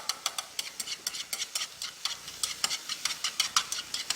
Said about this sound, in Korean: 식용유 두르시고요. 자, 당근도 마찬가지예요. 당근도 꾹 짜서 들어갑니다. 이렇게 볶아주세요.